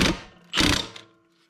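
An impact wrench rattles in two short, sharp bursts while tightening a bolt on a lawnmower, the second burst louder, each trailing off into a brief mechanical whir in an otherwise quiet space.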